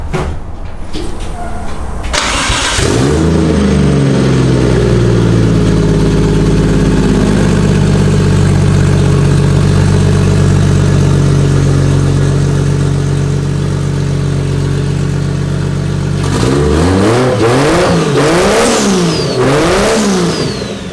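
A 1JZ engine in a Nissan S13 drift car cranks and fires up, settles into a loud, steady idle, then is revved repeatedly in quick rising and falling bursts near the end.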